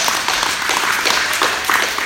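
Dense, steady applause from an audience at a motivational talk, many hands clapping close and loud throughout without a break, no voices over it.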